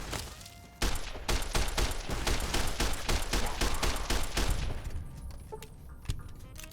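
Rapid bursts of gunfire rattle out in Fallout New Vegas, a sustained fusillade of sharp shots that begins abruptly, runs steadily for several seconds, then thins out into a few scattered reports.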